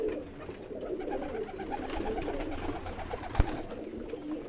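Kamagar pigeons, a male and female pair, coo steadily on a rooftop, soft repeated rolling calls layered close together with one sharp knock partway through.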